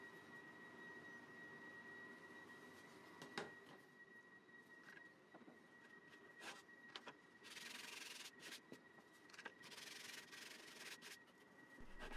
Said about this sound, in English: I use my ultimate sanding block to shape the bottom of the tree